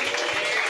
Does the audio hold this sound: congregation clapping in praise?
yes